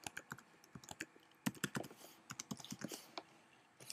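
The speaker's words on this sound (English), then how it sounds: "So just let me type that in." Rapid, irregular keystrokes on a computer keyboard as a password is entered during an iPhone 2.1 jailbreak, a quiet close run of crisp clicks with brief pauses, no voices.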